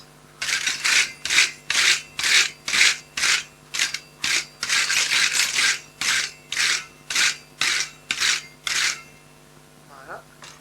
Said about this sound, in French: Donc maintenant, un bon coup de brosse.